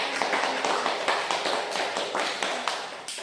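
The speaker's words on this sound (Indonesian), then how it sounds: "Tepuk tangan dong" Classroom applause from students, a short burst of fairly close hand claps with a loose, uneven rhythm that stays steady and moderately loud for a few seconds, with no talk over it.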